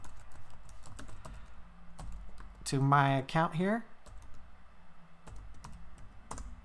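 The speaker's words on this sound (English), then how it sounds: "Having a hard time typing." Someone types on a computer keyboard in quick, light clicks that run throughout, close but fairly soft, while a person speaks briefly in the middle.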